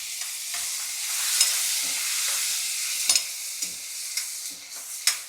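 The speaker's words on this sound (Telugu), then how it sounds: "ఇది కొంచెం దోరగా వేగుతున్నాక పల్లీలు వేయని కొన్ని పచ్చిమిర్చి అలాగే అల్లం తరుగు అవి కూడా వేసేద్దాం" Peanuts, green chilies and chopped ginger frying in a pan, giving a loud, steady hiss of sizzling oil close up, broken by occasional scrapes and taps of a stirring spoon.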